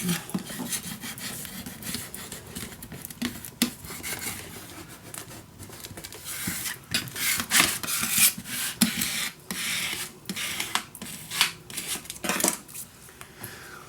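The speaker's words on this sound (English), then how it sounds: "And burnish it down." Paper is burnished down onto a scrapbook album page in a run of irregular dry rubbing and rasping strokes, close and fairly soft, with brief pauses between passes.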